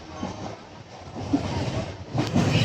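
An empty passenger train rolls into a station on a Sunday, a low rumbling approach that grows gradually louder over a couple of seconds, heard from the platform at moderate distance.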